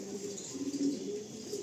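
A female racing pigeon, a blue bar bird, coos softly and close by in a low, rolling murmur with no one talking over it.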